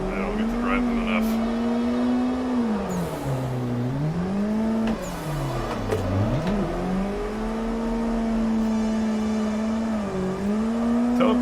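Rotary-engine Mazda RX-3 driven in a drifting video game, its buzzing engine note holding steady and then dipping and climbing twice as the revs drop and rise, loud and continuous throughout.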